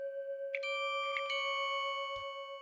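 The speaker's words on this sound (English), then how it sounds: "I just coupled those bells with, you guessed it, more bells." Stacked bell tones in a gritty lo-fi Griselda-style hip-hop beat: a sustained ringing tone underneath, with a few brighter chime strikes layered on top, harshly EQ'd and slightly out of key, plus a short low thump near the end.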